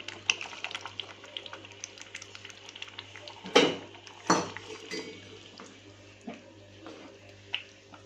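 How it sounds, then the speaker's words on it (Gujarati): Spoon scraping and clinking in a pot as boiled pigeon peas (tuver) are stirred into a curry, soft close scrapes with two sharper metallic knocks midway and a low steady hum beneath. "હવે આપણે સારી રીતે આને હલાવી લઈશું"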